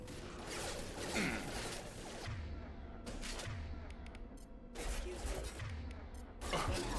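Shotgun blasts in the video game Mass Effect 2, several heavy booming shots spaced a second or two apart amid combat noise and game effects.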